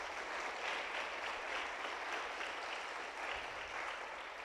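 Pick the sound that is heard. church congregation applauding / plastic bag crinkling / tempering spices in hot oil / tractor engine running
church congregation applauding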